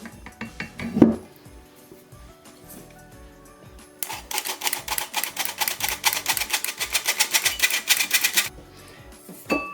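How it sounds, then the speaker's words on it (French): Whisk beating flour into cake batter in a bowl, rapid rhythmic metallic clicking and scraping against the bowl for several seconds, loud and close, after a quieter stretch with a single knock. "Et avec le fouet, je vais doucement et je remets la farine."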